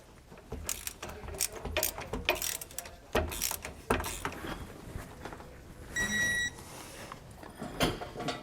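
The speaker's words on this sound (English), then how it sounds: "We're going to go ahead and just tighten this down till it's snug, and then we can torque it down." Bolts on a Roadmaster rear anti-sway bar of a 2015 Ford F-53 motorhome chassis are tightened until snug, giving repeated close ratcheting clicks in short bursts with a brief tonal beep-like whine partway through.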